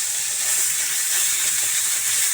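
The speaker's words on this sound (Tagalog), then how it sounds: "Ngayon naman igigisa na natin yung lumpia filling." Ground meat sautéing without added oil in a pan as filling for taro spring rolls, giving a steady bright sizzling hiss, loud and continuous, with no talk.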